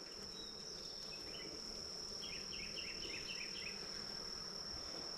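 A continuous buzz of honeybees crowds an open upper brood box holding comb and stored nectar, several bees passing close amid the steady drone; no talking.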